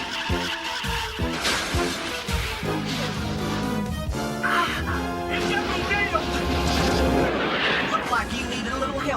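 Artillery fires in an 80s or 90s cartoon, loud booms and blasts tangled with screeching vehicle skids, engine roars and excited character voices in a dense action soundtrack.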